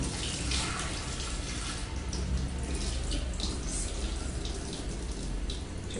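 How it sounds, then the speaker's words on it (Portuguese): Water pours off soaked raw rice as it is drained for a rice and coconut cake, a steady close splashing and trickling rush that runs unbroken with no talk. "Aqui eu vou escorrer essa água."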